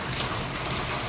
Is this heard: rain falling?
yes